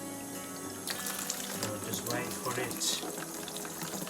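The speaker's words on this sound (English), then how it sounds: "So just making sure that the water's warm to fill the bath." Warm tap water runs steadily into a budgie bath with a built-in mirror, a continuous splashing flow filling the tub while a person talks over it.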